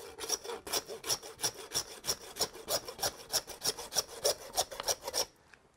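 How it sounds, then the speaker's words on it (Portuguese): A hand saw cuts through beef rib bones on a table, a steady run of about a dozen close, rasping back-and-forth strokes that stop abruptly at the end. "E serra é feita para cortar o osso."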